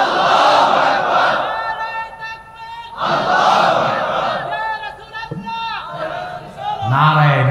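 A crowd at a religious sermon chants a slogan in loud unison, calls and responses rising and falling in several swells, with a lead voice among them.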